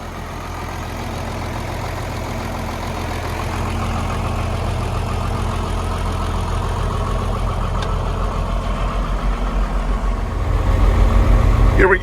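A John Deere 4430 tractor idles, heard from inside its SoundGard cab, a steady low engine drone that swells slightly midway and grows rougher near the end.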